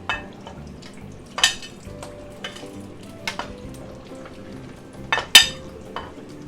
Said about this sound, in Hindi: समोसे हमारे फ्राई हो चुके हैं।